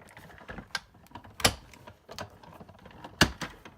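A Big Shot die-cutting machine feeds cardstock on a clear cutting pad, giving scattered mechanical clicks and clacks with two sharp, loud knocks standing out among softer rustling handling noises; no one speaks.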